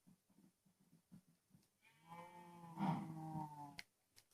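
In Minecraft, soft clicking and rustling give way to a long, drawn-out cow moo, clear and moderately close, fading at the end.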